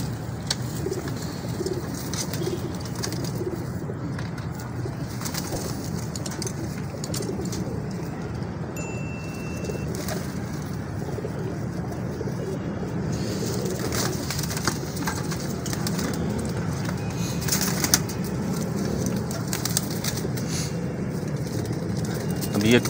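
Pigeons in a loft cooing steadily throughout, a dense low murmur with occasional higher calls, while someone talks over it.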